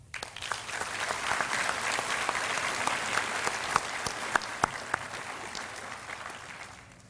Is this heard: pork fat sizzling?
no